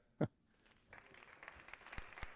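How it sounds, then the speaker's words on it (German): A small online audience gives sparse, faint applause: a few scattered claps that grow into a light patter after a brief knock, quiet and without talk. "Ja, Applaus."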